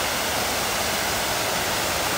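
Bijakasha Waterfall in Bastar roars close by, a loud, dense and unbroken rush of falling water that fills the whole clip with no voices over it.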